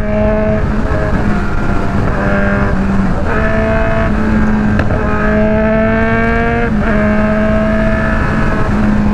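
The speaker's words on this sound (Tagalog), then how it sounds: "Kahit supercharged pa yan bro, sisipakin ni Guanzi yan." A supercharged car engine racing, loud and sustained, with a steady droning whine whose pitch rises and falls as it shifts and accelerates, close to the microphone with no voices.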